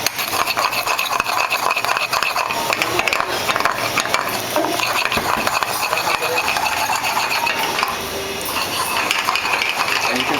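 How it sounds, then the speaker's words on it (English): Almonds toast and sauté in a pan with a steady, busy sizzle and frequent light clinks and scraping of stirring against the pan, continuous and fairly close throughout. "now the almonds are toasting and sauteing right here in the pan."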